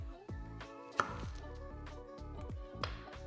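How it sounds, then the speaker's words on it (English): A knife chops a red onion on a board, sharp close strikes at an uneven pace with a faint ring after each cut. "this is a red onion we're cutting"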